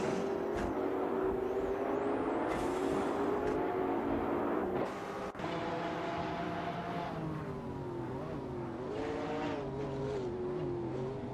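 Hypercars race around the Spa circuit in a video game, their engine notes rising and falling in overlapping high-pitched whines and drones that stay loud and continuous, with one quick, sharp cut partway through.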